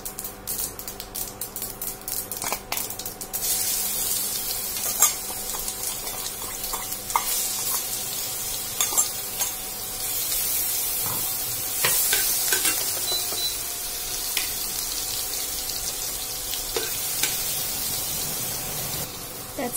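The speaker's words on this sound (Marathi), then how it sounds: "हे छान आपल्याला तेलात तडकू द्यायचंय।" Crushed spice paste (thecha) crackling and frying in hot oil in a home kitchen for mirchi bhaji, a steady close sizzle with frequent sharp pops and spoon stirring scrapes throughout, no talking.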